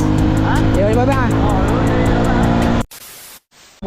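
A Honda Wave125 motorcycle engine runs steadily and loud up close for most of the stretch, with voices talking over it, then cuts off abruptly into near silence.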